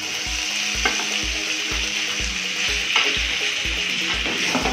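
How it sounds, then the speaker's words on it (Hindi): Pasta masala being stirred in a frying pan, a constant loud sizzle with a steady rhythmic scraping of the spoon against the pan about twice per second, with no talk. "अब इसके बाद इसको हम हल्का ध्यान से चलाएंगे दोस्तों"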